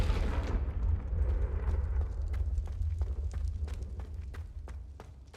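A Confringo blasting spell goes off in Hogwarts Legacy as a loud, deep boom at the start, then a rumbling low roar that slowly fades, with scattered crackling debris clicks over the tail.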